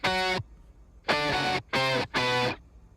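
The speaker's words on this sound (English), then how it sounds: "The strings add some texture. But then we got all these chopped up guitar notes here" Layered strings stacked with chopped, stuttering guitar notes in a produced track, heard as four sustained harmonic bursts separated by short gaps, loud and processed with no voices.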